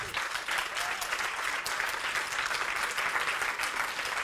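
Steady, dense applause from an audience at a startup contest closing ceremony as winners are announced, continuous clapping throughout without pause.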